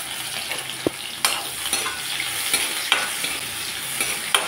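Crushed garlic cloves fry with nigella seeds in mustard oil, giving a steady, close sizzle broken by occasional light stirring scrapes and a few sharper spatters.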